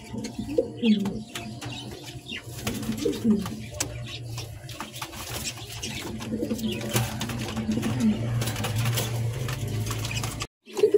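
Lahori pigeons, a Gribars running pair, coo repeatedly in low, throaty bursts at close range, with soft chirps and clatter from a pen or market setting around them.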